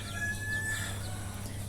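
Chickens and roosters clucking in a farm setting, a short burst of fowl calls with one drawn-out tonal note over a steady low background hum.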